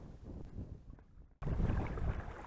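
Wind buffets the microphone in rough, low gusts on a river in flood during net fishing, briefly dropping out then returning louder and fuller, with no speech.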